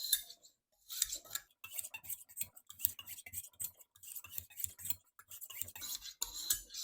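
A knife is drawn repeatedly across a knife sharpener: short scraping strokes in a steady back-and-forth rhythm, quiet and close, with brief pauses as the blade is flipped.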